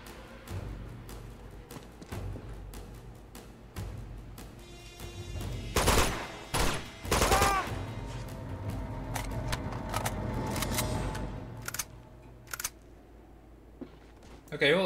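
Gunfire from shooting enemies in a video game, scattered sharp bursts of shots, some in quick rapid clusters, mixed with game noise and a person talking over it.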